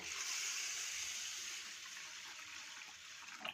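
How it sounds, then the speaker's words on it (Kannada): Water pours over washed green gram in a bowl. It makes a soft, continuous rushing gush that fades slightly toward the end, with a faint splash at the close. "ಮುಳುಗುವಷ್ಟು ಅಷ್ಟು ನೀರು ಹಾಕಿದ್ದೀನಿ"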